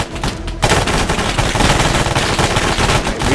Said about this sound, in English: Hopefully the 50 cal will be able to go through them like nothing else.